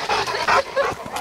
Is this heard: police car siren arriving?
no